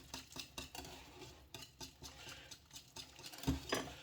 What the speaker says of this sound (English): I'm going to use a whisk.